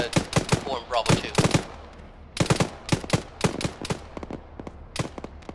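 Rapid bursts of machine gun fire in a military video game, with several loud clustered volleys, a brief pause, then more sustained rattling shots close by.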